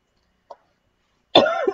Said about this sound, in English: Of course I have to cough.